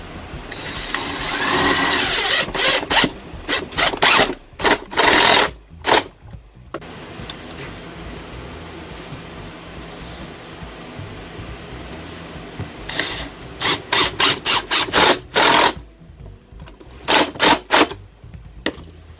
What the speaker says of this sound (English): And now I'll put the screws in.